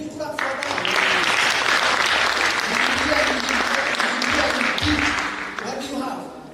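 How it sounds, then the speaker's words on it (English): Loud, sustained applause from a graduation ceremony audience at a theological seminary, dense and steady for several seconds before tapering off, with voices murmuring and calling out underneath. "Can you clap for that?"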